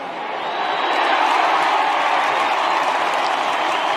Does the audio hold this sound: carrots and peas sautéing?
no